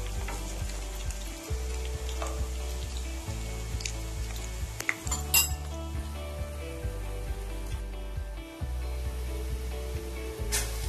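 Lentil dumplings gently turned one by one in a shallow-oiled pan, a quiet sizzle broken by a few soft clicks and scrapes, close and low in level over a steady droning hum, with no speech.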